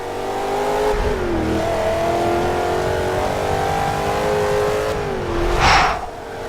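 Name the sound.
Corvette ZR1 engine in a racing video game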